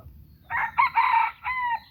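A young rooster of an old-style jungle-fowl decoy line gives one loud, clear crow lasting over a second, ending in a shorter drawn-out note above a faint low background.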